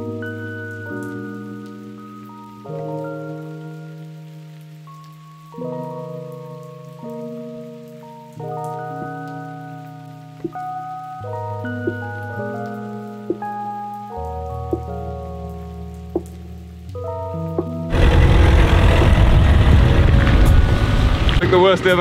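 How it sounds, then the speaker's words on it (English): Heavy rain lashes the Royal St. George's links golf course in England on a wet, windy day, rising abruptly as a loud, dense, steady hiss in the final seconds after a stretch of music. "It's going to be an epic day filled with rain, wind, and no sun."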